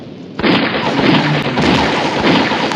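A machine gun in the mobile shooter game Mini Militia fires a loud, continuous rapid burst that starts abruptly and runs unbroken to the end, close and dominant, with no voices.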